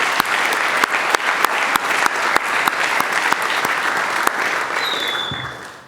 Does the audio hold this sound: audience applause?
yes